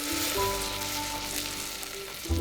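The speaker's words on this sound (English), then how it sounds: "now for the stuffing, I'm going to add some beef stock" Beef stock poured into a hot pot over coals at a backcountry campsite, to make stuffing, sets off a steady, close sizzle that hisses alone without pause.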